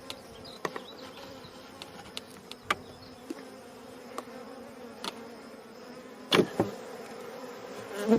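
Honey bees hum steadily around an opened hive while stuck comb is pried loose during an inspection. Sharp clicks and taps from the hive tools punctuate the close drone, with a louder rattle of knocks near the end.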